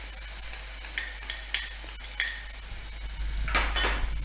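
Grated sweet corn roasting in a pan over a low gas flame, with soft intermittent scraping stirs over a faint sizzle and a brief louder scrape near the end; no talk.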